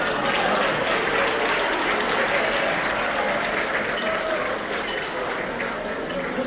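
A conference audience at a magic show bursts into sustained applause, a dense, loud wash of clapping that holds steady from start to finish.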